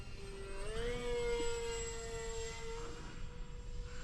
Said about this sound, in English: Yeah, and this plane's pretty nice and quiet, you know, with the motors out front.